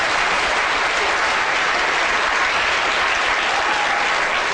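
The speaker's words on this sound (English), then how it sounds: "Okay, big round of applause." Sustained audience applause fills a lecture hall, dense and steady from start to finish with no break, loud and close like a room full of people clapping together.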